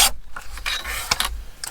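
Paper being trimmed for a fairy journal page, heard as rough, rasping cuts in several short bursts, fairly close and alone with no talk.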